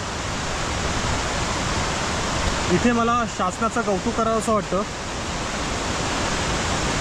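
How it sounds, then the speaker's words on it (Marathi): A tall waterfall in Konkan, beside the Mumbai–Goa highway, gives off a steady broadband roar that fills the whole clip, with someone speaking briefly over the rushing water partway through. "हा सुरक्षित असा धबधबा आहे"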